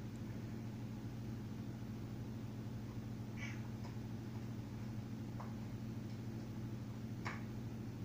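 A pet cat meows a few times, short mid-pitched calls standing out over a steady low indoor hum, fairly near and moderately loud.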